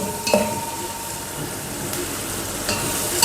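Onions and chicken masala frying in a pan, being mixed: a steady, moderately loud sizzle with a couple of soft scrapes of the spoon, no voices.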